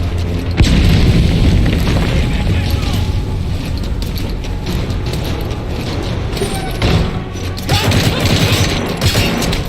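A grenade explodes in Metal Gear Solid V with a loud, heavy boom early on, followed by dense, sustained rumbling battle noise and mechanical clatter that stays loud to the end.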